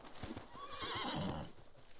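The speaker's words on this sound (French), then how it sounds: "Entendez-vous des sabots dans le lointain? Des chevaux?" Horses in a night-time forest scene, a faint whinny rising over soft, distant hoofbeats, quiet and somewhat muffled under a low ambient wash.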